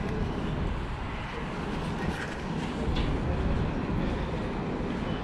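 A New York City train station during the Coronavirus pandemic carries a continuous rumble of a passing train, rail noise, and faint clatter, moderately distant, with no clear speech.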